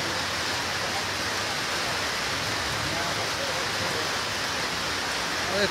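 Steady rain in Moulvibazar town hisses evenly and close, a constant wash of drops filling the whole stretch without pause.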